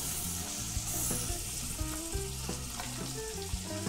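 Chopped onion and garlic cloves frying in a pan for pork rib rice, a steady close sizzle with occasional stirring clatter, no talking.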